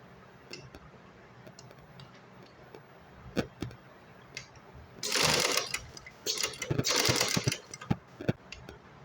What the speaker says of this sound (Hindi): डबल फोल्ड करने के बाद जो है मैं इस पर एक सिलाई कर दूँगी इस तरह से।